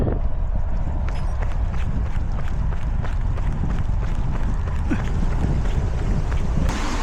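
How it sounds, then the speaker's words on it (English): Strong headwind buffeting a microphone during an outdoor training run, a loud continuous rumbling roar with rhythmic footfall thuds beneath it and no speech. "The weather's that bad, the wind's that strong."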